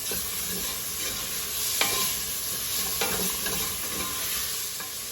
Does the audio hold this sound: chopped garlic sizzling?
yes